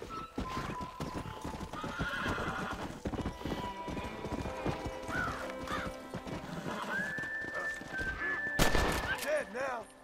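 Hooves clip-clop rapidly in a galloping rhythm as a horse neighs in the game Red Dead Redemption, mixed with game sound effects and a burst of gunfire near the end.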